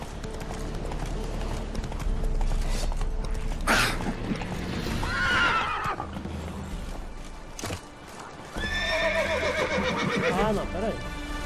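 In The Witcher 3 a horse whinnies loudly several times over galloping hoofbeats, with clip-clop and game sounds running throughout and a person talking over parts of it.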